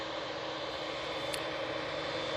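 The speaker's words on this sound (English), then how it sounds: "Next in, we have the EasyJet A319 coming in from Palma de Mallorca." An EasyJet Airbus A319 arriving at Manchester Airport from Palma de Mallorca gives a steady, distant engine roar, a brief even drone with no talking.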